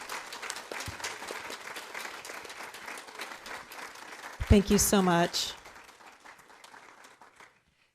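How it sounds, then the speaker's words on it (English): Dense audience applause fills a convocation hall for several seconds, then a voice speaks briefly as the clapping tapers off into silence. "Can we get one more round of applause for both of our speakers?"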